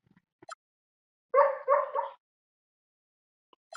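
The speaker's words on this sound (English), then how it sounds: "This motherfucker's barking in her dreams." A sleeping dog lets out a short burst of three muffled, soft barks, with faint whimpery yips just before and after in an otherwise quiet room.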